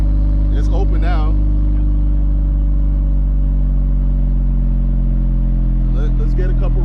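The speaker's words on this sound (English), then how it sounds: "So listen to that exhaust." A deep, steady exhaust rumble idles loudly throughout, with brief bursts of talking near the start and end.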